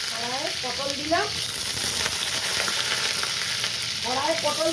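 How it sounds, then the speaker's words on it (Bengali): Pointed gourd frying in mustard oil in a wok gives a loud, steady close-up sizzle, with a voice speaking briefly at the start and again near the end. "কড়াইয়ে পটল দিচ্ছি।"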